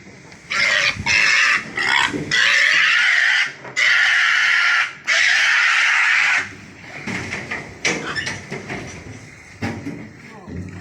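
Loud pig squeals in long shrill bursts from fattener pigs being loaded on a farm, followed by grunting and scuffling, close and noisy.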